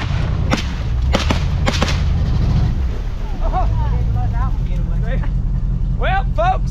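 Several sharp rifle gunshots from deer hunters nearby ring out early in quick succession over the loud rumble of a swamp buggy engine, followed by voices talking.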